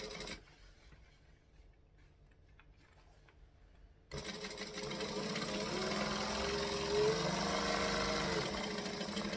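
Sewing machine stitching a bag seam starts abruptly after a quiet pause, then runs as a steady close-up whirring hum to the end.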